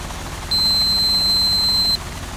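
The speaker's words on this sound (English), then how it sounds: "A little buzzing sound there." A thin, steady electronic buzz starts abruptly, holds at an even pitch for about a second and a half, then cuts off over a low engine drone, in a Guimbal Cabri G2 helicopter in a flight simulator game.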